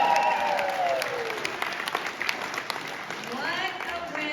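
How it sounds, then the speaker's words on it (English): Crowd at a political town hall cheering and clapping, with rising whoops and shouted voices over a bed of applause, moderately loud and sustained. "Can we at least cheer for the Cyclones?"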